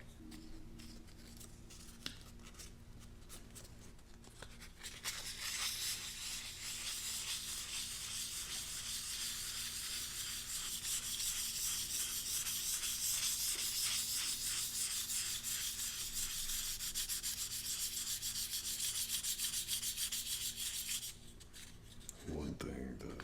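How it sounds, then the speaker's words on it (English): Natural wood being rubbed with sandpaper, a steady close scratchy rasp that runs continuously for most of the stretch, starting and stopping cleanly at either end over a quiet background. "One thing that people do a little bit wrong with sandpaper is pushing in too hard."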